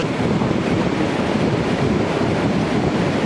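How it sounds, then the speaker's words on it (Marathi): Strong wind roars steadily across the microphone by the sea at Murud Janjira, with surf rumbling underneath and no pauses. "मस्त वारा आ रहा आहे"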